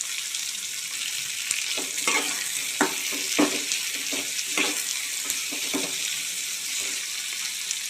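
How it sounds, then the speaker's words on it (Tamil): Curry leaves sautéing in a pan for curry leaf chutney, a continuous sizzle broken by irregular scraping stirs from a spatula, close and without talk. "கருவேப்பிலை நல்லா வதங்கிடுச்சு"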